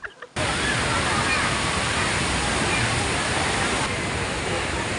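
Taytay Falls waterfall roars as a dense, constant rush of falling water, loud and close, starting abruptly after a moment of quiet and holding steady throughout.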